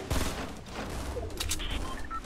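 Rifle gunfire in the Fortnite video game, a rapid burst of crackling shots layered with game effects, moderately loud and continuous over a couple of seconds.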